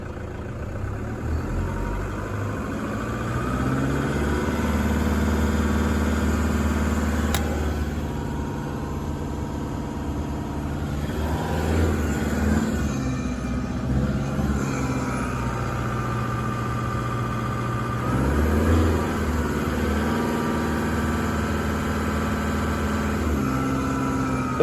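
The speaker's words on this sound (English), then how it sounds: "I'll just give it a bit of a rev to see" A car engine revs up and back down a few times over a steady idle, a low rumbling swell that rises and falls, close by with no talking over it.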